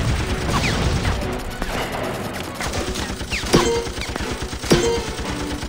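Turret gunfire during a Mighty Battles video game match, with rapid bursts of shots and sharp impact cracks over busy battle noise, two heavier blasts standing out near the end.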